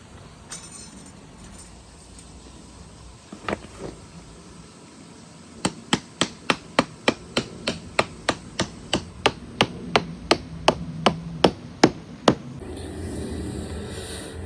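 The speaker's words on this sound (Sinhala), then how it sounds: "ඊට කලින් කාපට්ටේ ඔහොම තියලා පොඩි කොක්කක් වගේ එකක් තියෙනවා. ඒක ගහන්න ඕනේ." A small hook is hammered into carpet at a worksite in Japan. After a few scattered knocks, a steady series of about twenty sharp, evenly paced metallic taps rings out close by, with no voices.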